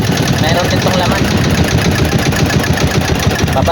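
A fishing boat's engine idles close by with a steady, knocking, mid-pitched chug that continues unbroken throughout.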